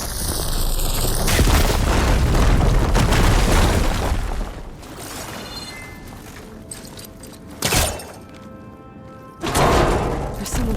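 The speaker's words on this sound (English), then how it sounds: "Should be able to blow up that fire beam" An explosion blows apart a fire beam in Horizon Forbidden West, sending a heavy boom and rumbling debris across the first seconds, followed by quieter ambience and two further sharp bursts later on.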